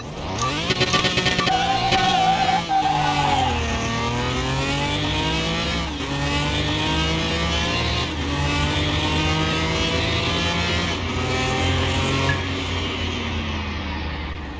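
Engines roar in a Car Mechanic Simulator 2021 drag race against a Nissan 350Z, a loud close revving engine climbing through gears with sharp shift breaks and a steady high-pitched whine, with no talk.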